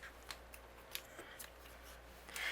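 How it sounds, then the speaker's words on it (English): Scissors trim a paper card strip to size for a Christmas card, making a few soft, crisp snips spaced irregularly across a couple of seconds, close but quiet, with no talking. "I'm going to line this up and I'm going to trim this so it's the same size."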